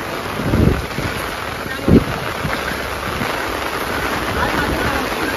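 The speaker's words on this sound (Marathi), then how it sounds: "खूप हवा सुटली आहे" Strong wind buffeting the microphone on a hillside partway up a mountain climb, a steady rough rumble with two louder gusts near the start.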